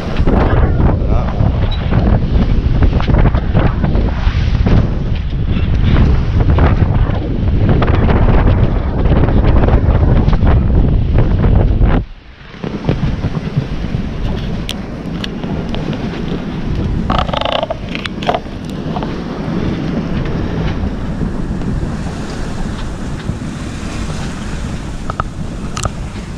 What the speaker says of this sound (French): Donc il y a un peu de vent